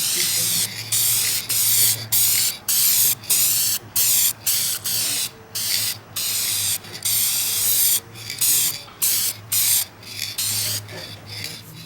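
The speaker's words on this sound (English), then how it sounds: "now we're going to shoot some clear guard on top." Short bursts of hissing clear coat spray repeat in a steady on-off rhythm, close by, each lasting about half a second to a second.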